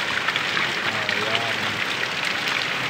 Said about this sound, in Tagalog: talagang malakas yung ulan guys,